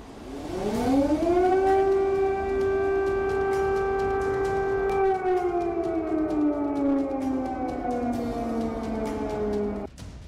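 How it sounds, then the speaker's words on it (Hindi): A loud air raid siren in Kyiv, Ukraine, warning of missile attacks during the Russia-Ukraine war, winds up, holds a long wailing tone, then slowly falls in pitch before cutting off near the end. "कीव में लगातार मिसाइल अटैक के सायरन बज रहे हैं।"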